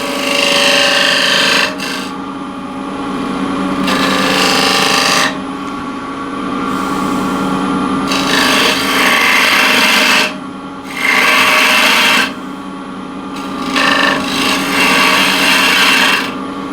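A 10 mm spindle gouge cuts into yew wood spinning on a lathe, making loud, raspy scraping bursts of a couple of seconds each, separated by the quieter hum of the running lathe.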